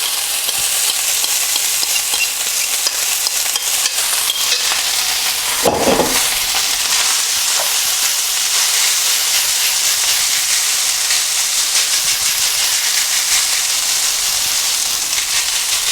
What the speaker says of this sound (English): So another couple of tablespoons of vegetable oil in the wok. Bring that up to temperature again. And then straight in with the rice.